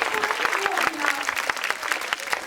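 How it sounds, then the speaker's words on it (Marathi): Loud, dense applause from a studio audience at a Marathi television game show, many hands clapping steadily and close for the whole stretch with no talking over it. "जोरदार टाळ्या झाला पाहिजे."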